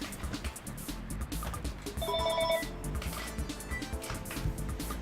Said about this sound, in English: So of course my phone's going to ring.